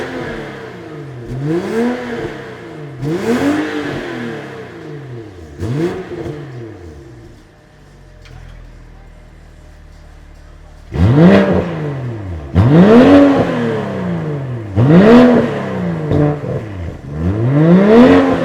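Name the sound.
BMW M340i car engine revving with DCE downpipe exhaust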